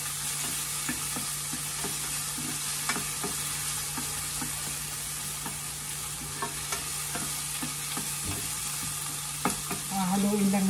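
Tomatoes and zucchini sautéing in a pan, a steady close sizzle with frequent knocks and scrapes of a spoon stirring, lasting throughout with no talk.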